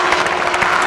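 Applause and crowd noise for drift drivers at a drift event in Čačak, a dense, steady wash of clapping with a faint voice in the background, lasting under a second.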